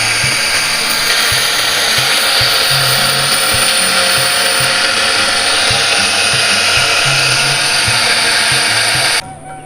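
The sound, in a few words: sharpening cut fiber for blowpipe darts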